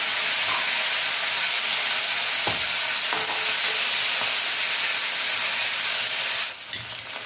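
Curry leaves dropped into hot frying oil after garlic hiss and sizzle in a loud, steady broadband crackle that runs nearly the whole time, with a few soft stirring knocks, then eases slightly at the end.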